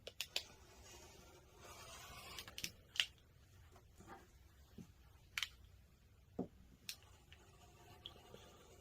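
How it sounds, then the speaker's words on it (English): Scissors snip through sewn fabric for a fabric flower, soft close cuts in scattered single clicks over a quiet room background. "Now we're going to cut this out."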